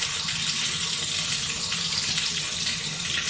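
Cold tap water runs hard into a kitchen sink as freshly cooked soba noodles are rinsed, a loud continuous rushing and splashing that stays steady throughout with no talk over it.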